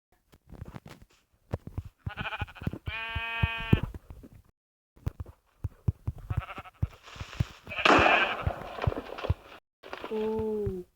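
Sheep bleat repeatedly in a blocky survival video game, several drawn-out wavering calls spread across the stretch with short gaps, near and clear, mixed with footsteps and a brief rustling burst.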